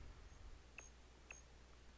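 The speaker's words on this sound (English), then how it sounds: "I can hear beeping too." Two short electronic beeps about half a second apart, faint and somewhat distant over a low steady background hum.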